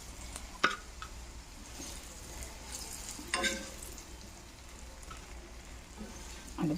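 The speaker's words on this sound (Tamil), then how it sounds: "அடுத்து வெண்டைக்காய் பொரிக்கிறேன்." Okra frying in oil in a pan, a steady soft sizzle with a few louder spattering bursts and clinks, heard close and without talk.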